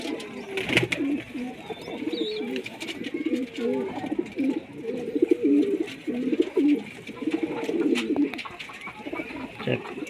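A pigeon coos repeatedly in low, throaty rolling phrases close by, with faint background chirps and occasional clicks or handling noises.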